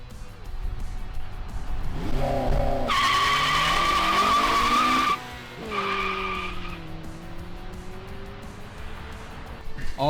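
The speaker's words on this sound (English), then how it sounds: "I also wanted to play around with launch control because I've never had a car that's had that before." An 8th-generation Honda Civic Si doing a launch control start: the engine holds a steady high-rpm buzz, then tires squeal hard as the car dumps off the line, followed by revs climbing through gears, loud and close.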